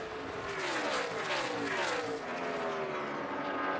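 NASCAR race cars at Kansas roar by in the distance, engines rising and falling in pitch as they pass, a continuous faint whine of racing traffic with no voices over it.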